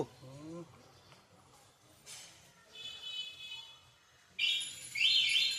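A bird tangled in a net gives a few sharp, high chirps, loudest in a burst near the end, with some scuffling and a brief low voice at the start.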